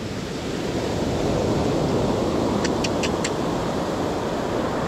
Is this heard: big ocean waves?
yes